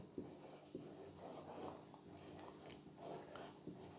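Pen or pencil writing an English sentence on paper, a close scratchy scribble with short strokes and a few taps, steady and quiet with no talk.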